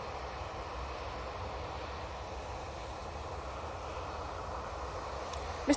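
A Ryanair airliner with split scimitar winglets departs Manchester Airport bound for Eindhoven, its engines giving a steady, broad jet roar that holds even throughout, with a brief sharper sound at the very end.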